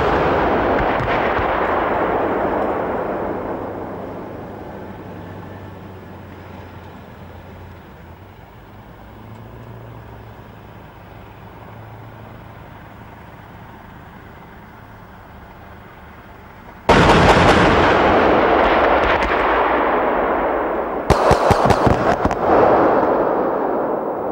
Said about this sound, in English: 2 minibus targets engaged from a moving combat vehicle using high explosive tracer rounds in 4-round salvos